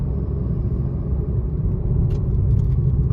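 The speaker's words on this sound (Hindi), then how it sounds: "थोड़ा भगा लेते हैं गाड़ी।" A car driving fast on the mountain road from Jispa to Leh, a steady loud low engine and road rumble throughout, with a few faint clinks near the end.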